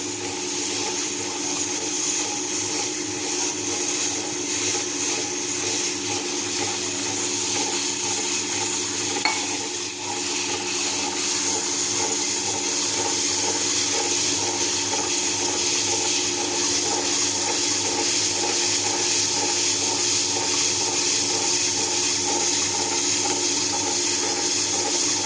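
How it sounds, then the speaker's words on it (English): A steady, dense whirring and sloshing of atta dough being kneaded in a grinder as water is added, loud and continuous throughout with no voices. "Add little more water."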